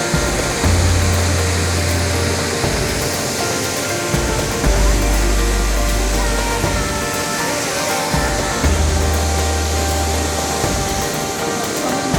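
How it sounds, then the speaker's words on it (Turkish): A waterfall beside a countryside motorcycle route between Denizli and Uşak gives a loud, steady rushing roar that fills the clip, with an intermittent low hum underneath and no speech. "Şelale de çok güzel."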